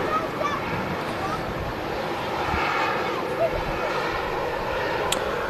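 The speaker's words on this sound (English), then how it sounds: "Singapore Airlines Flight 51 taking the A350-900 back to Singapore." Singapore Airlines Airbus A350-900 jet at Manchester Airport, a steady broad engine roar at a distance, with a voice talking over it.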